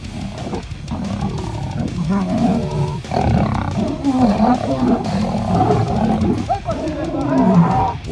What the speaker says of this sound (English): How on earth could any man ever stop this ferocious lion fight?